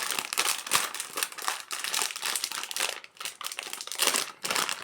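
Crinkly plastic wrapper of a Trolli Octopus gummy candy pack being torn open and handled, a steady dense crackling close by with brief pauses, no talking.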